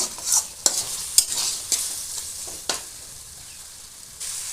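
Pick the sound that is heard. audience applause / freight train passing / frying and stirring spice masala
frying and stirring spice masala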